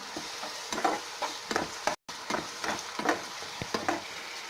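Tomato paste sautéing in a pan for mutton keema gives a steady low sizzle, broken by repeated stirring scrapes and taps of a spoon, with one brief dropout.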